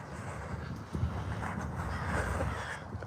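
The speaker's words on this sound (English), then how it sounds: "I hear that hawk. You hear that hawk?" A hawk calls outdoors with harsh, caw-like cries that repeat over steady wind rumble, fairly loud and close.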